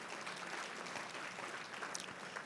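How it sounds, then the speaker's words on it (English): Audience applause at a Chicago gala, a faint, steady wash of clapping from a large room that continues evenly without a break. "Yes, you can give a round of applause."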